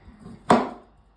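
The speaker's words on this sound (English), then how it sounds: "Cut and slice your kiwi fruits." A knife slices through kiwi fruit on a board in one crisp, close chop that fades quickly into quiet.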